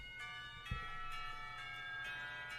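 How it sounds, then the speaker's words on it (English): Warning bells chime through a school window in the visual novel Katawa Shoujo, a sustained bright ringing tone that repeats in soft pulses over a low steady background, with one dull thump early on. "the warning bells chimed through the window"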